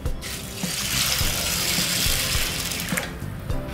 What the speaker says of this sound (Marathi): आता याच्यात आपण पाणी घालायचं आहे